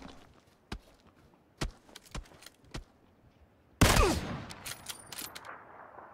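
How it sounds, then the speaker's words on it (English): Gunfire in PlayerUnknown's Battlegrounds: several isolated sharp shots at irregular intervals, moderately distant, then a loud close blast with clattering debris and a few more cracks trailing off. "Getting shot at."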